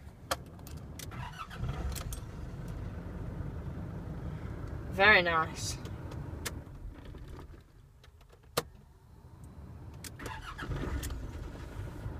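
A 2004 Nissan Navara D22 4x4 pickup cranks briefly and starts straight up, then settles into a steady idle close by, with someone talking briefly over the engine.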